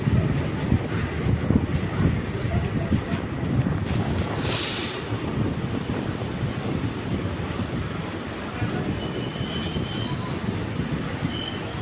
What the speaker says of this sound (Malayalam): നമ്മുടെ ട്രെയിൻ ദേ കറക്റ്റ് മൂന്ന് പത്തായപ്പോഴത്തേക്ക് കൊല്ലം ജംഗ്ഷനിലേക്ക് എത്തിച്ചേർന്നിരിക്കുകയാണ്